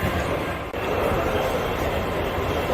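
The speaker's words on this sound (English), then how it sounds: "Trains coming through here." Continuous rumbling roar of a model train running on track at a model train show, steady and close, with a brief break partway through.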